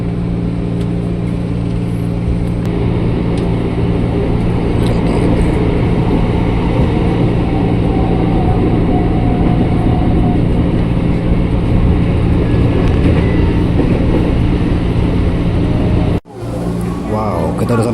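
Inside a KRL commuter train on the Nambo line heading toward Manggarai station, a continuous loud rumble of the carriage rolls on under a voice talking, then cuts off abruptly near the end.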